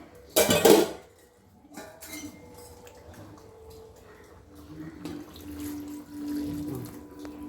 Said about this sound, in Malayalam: കുറച്ച് ചൂടുവെള്ളം ഒഴിച്ചു കൊടുക്കാവേ